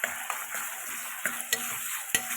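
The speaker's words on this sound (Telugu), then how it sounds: "అవి చిన్నగా కలుపుతూ ఉండాలి లో ఫ్లేమ్లో వేయించాలండి తర్వాత హాఫ్ టీ స్పూన్ పసుపు యాడ్ చేసుకున్నాను" Sliced onions with turmeric fry over a low flame while being stirred, a steady soft sizzle broken by a few brief scraping clicks of the spoon against the pan.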